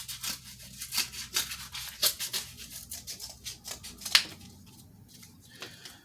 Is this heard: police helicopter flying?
no